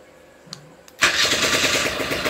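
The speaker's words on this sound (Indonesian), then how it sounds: "Oke, kita pencet ini, kita starter aja dulu ya bro." A two-stroke automatic Yamaha F1ZR motorcycle engine cranks and catches after a couple of faint clicks, then settles into a loud, steady, buzzing idle close by.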